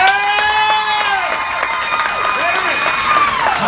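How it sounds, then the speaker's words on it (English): A crowd at a viewing party in a restaurant in Orange, California claps and cheers for veterans, with loud whistles and shouts rising over steady applause throughout. "Round of applause for veterans,"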